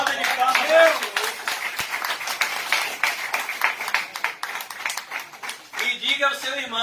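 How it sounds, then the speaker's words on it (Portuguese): Church congregation clapping together in applause after a prayer, a dense run of handclaps with voices talking over them and a brief pause near the end. "Uma salva de palmas"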